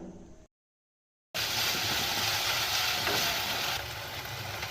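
Chopped tomato hitting hot oil with spices and ginger, a loud steady sizzle that starts abruptly after a brief silence and fries on continuously.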